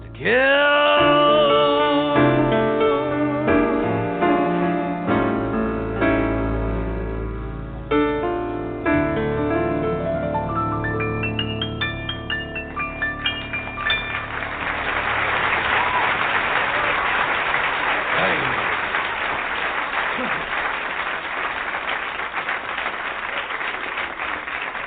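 Closing bars of a song play loud and full for about fourteen seconds, then dissolve into a dense wash of crowd-like noise that fills the rest.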